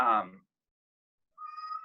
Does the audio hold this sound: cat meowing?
yes